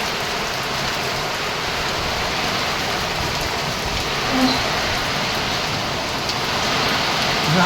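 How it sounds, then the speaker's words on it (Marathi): Dense, steady downpour of heavy rain drumming on surfaces, a constant loud wash with faint whooshes of wind and no talking. "पाऊस कसला धुवादार आहे वारा पण आहे जबरदस्त पाऊस आहे"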